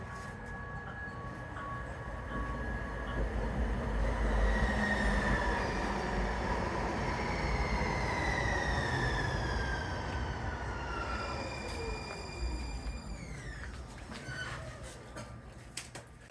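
A light rail train rumbles steadily along the rails from inside, running through city streets, with wheels squealing and whining tones that rise and fall, a continuous loud ride.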